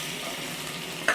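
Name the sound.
ginger and green chilli frying lightly in ghee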